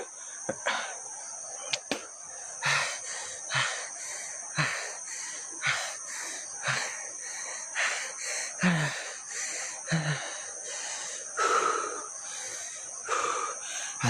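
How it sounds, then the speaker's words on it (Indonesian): Heavy, ragged panting from a man out of breath during a night search at Petilasan Tapak Gajah Mada, with rhythmic gasping breaths close to the microphone over a constant high insect drone. "Asli ini gua ngos-ngosan guys"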